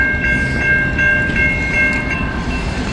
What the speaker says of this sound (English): Our train's not passing, it's just a locomotive.